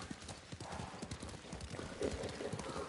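Hooves of a galloping horse in the video game Ghost of Tsushima pound out a fast, continuous clip-clop rhythm, close and steady throughout.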